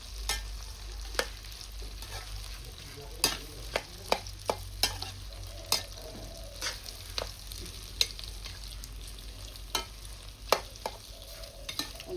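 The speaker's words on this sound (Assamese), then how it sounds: "এইখিনি এতিয়া লাহে লাহে জলফাইখিনি এৰি দিছোঁ দেই ইয়াত।" Indian olives (jolfai) fry in a small amount of oil, giving a low continuous sizzle broken by irregular sharp spatula scrapes and taps against the pan, close and moderately quiet.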